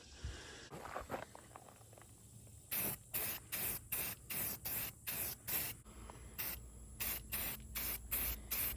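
Rust-Oleum spray paint hisses from an aerosol can in short, evenly spaced bursts. Each burst is close and loud and is followed by a brief pause. The can is being used to paint pipes on a fishing boat.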